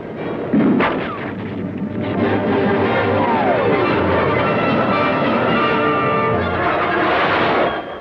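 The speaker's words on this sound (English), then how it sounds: "20-millimeter cannon speaking with authority" A 1960s Marine aircraft's 20-millimeter cannon fires on a ground target, sustained and rapid for several seconds, loud and dense, with a brief whistling tone and heavy rumble underneath.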